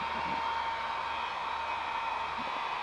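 A hair dryer blows steadily to clear dew from a telescope during an outdoor night stargazing session, a continuous close whooshing hiss with a faint motor hum running unbroken throughout.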